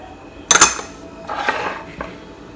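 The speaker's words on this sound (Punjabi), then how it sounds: "ਮਿਕਸ ਕਰ ਲਵਾਂਗੇ ਜੂਸ ਦੇ ਵਿੱਚ।" A metal spoon clinks against a bowl while stirring lemon and spices into fruit juice, with a sharp burst of knocks at first, then softer scraping taps and a final clink, close and alone without talk.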